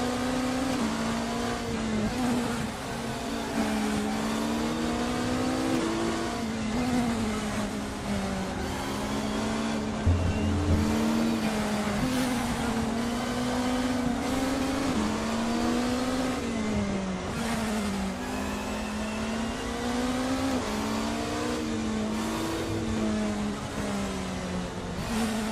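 Race car engine in the RaceRoom racing game, droning loud and continuous for the whole stretch, its pitch rising and falling through repeated gear shifts and throttle changes while overtaking on a curb.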